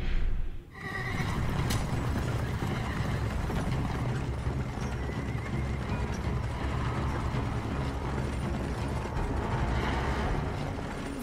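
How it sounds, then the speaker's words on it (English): Horses whinnying in the Van Helsing video game, a loud neigh at the start followed by continuous clip-clop of hooves and clanking, rattling mechanical noise, dense and steady without speech. "But first, horses."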